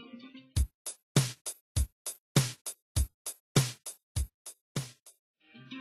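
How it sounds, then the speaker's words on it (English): A typical pop drumming pattern plays alone: a steady, loud kick-and-snare beat with regular, evenly spaced punchy hits over several bars. "In pop music, the rhythm is typically expressed by one dominant drumming pattern"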